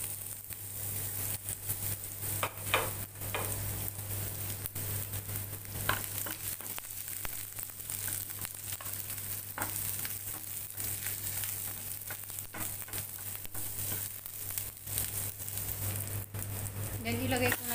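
Garlic and onion sauté in oil in a pan with a steady close sizzle and frying crackle, broken by occasional stirring clinks, and a low hum runs underneath.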